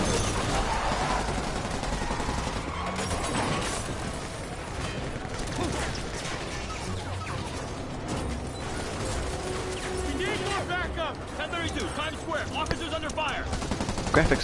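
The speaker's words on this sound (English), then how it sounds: "the sounds of gunfire is always good to hear" Gunfire in the Spider-Man video game rattles in rapid bursts and scattered shots over a dense mix of in-game effects and mechanical clanks, with loud, busy action throughout and a few sharper hits near the end.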